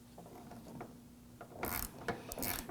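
A screw is snugged down on the exterior door handle of a 2008-2011 Ford Focus, giving faint ratcheting clicks and a few sharper mechanical bursts close by.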